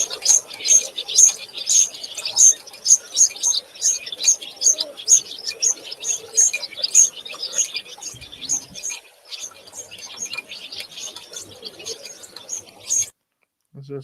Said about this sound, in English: Just a bunch of birds.